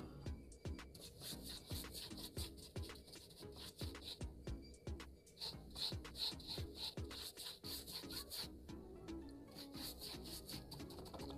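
An evaporative air cooler's pad, from a Havells Freddo i 70-litre cooler, is scrubbed clean with a brush, giving steady, dense rubbing and scratching strokes in a continuous rhythm, close and fairly loud with no talk.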